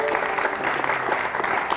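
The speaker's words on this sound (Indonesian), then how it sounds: "Luar biasa, tepuk tangan untuk Mbak Yayu." Audience applause during an Indonesian talk show segment, a dense steady patter of clapping filling the short stretch without a break.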